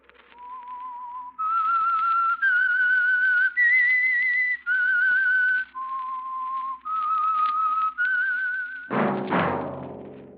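A lone whistler carries the eerie theme tune of The Whistler radio drama, a clear melody of eight sustained notes stepping up and down, ending with a sudden loud orchestral hit.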